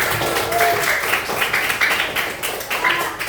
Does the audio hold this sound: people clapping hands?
yes